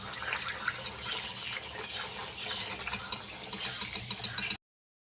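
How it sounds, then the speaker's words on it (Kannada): Tap water runs steadily into a sink while soaked green peas are rinsed, a continuous close splashing wash that stops abruptly near the end, with no talking. "ನೋಡಿ, ಬಟಾಣಿನ ಹೀಗೆ ಮಾಡಿ ಚೆನ್ನಾಗಿ ತೊಳಿಬೇಕು."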